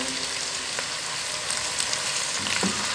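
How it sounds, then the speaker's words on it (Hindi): Tomatoes and green chillies fry in a pan with chicken, ginger and garlic, giving a soft, steady sizzle with a few faint stirring clinks near the end. "फ्राई कर लिया हमने 2 मिनट के लिए अदरक लहसुन को। और अब हम इसमें टमाटर और हरी मिर्च डाल देते हैं"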